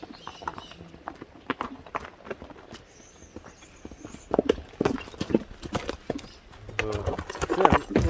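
A bay racing horse trotting on open ground, hooves clip-clopping in a steady, brisk rhythm that grows louder and closer toward the end, with faint distant voices in the background.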